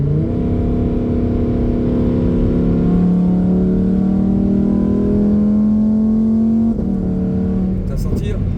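A Lamborghini Huracán Performante with a big engine accelerates hard from inside the cabin, its loud rising drone climbing steadily through the gear before a sharp shift, with voices talking over it.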